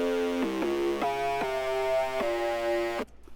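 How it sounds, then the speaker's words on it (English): A gritty, textured bass synth patch from the F1LTHY Mayhem Serum bank, with its low end removed, playing a sustained line of gliding, stepped notes that ends abruptly. "This is the bass out of F1LTHY Mayhem Serum Bank."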